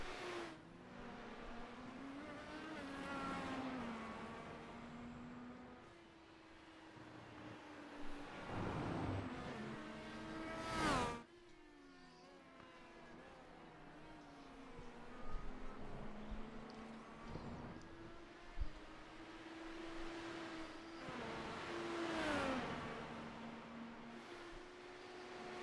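IndyCar race cars in a sim racing game whine around the track, their engine tones rising and falling as cars pass and shift gears, mostly faint with a few louder swells.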